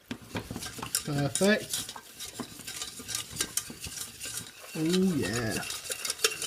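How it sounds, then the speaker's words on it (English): Flour stirred into melted butter in a pan to make a roux for four-cheese mac and cheese, a soft continuous scraping and stirring close up, with someone speaking briefly in between. "I'll chuck that flour in and mix it all up"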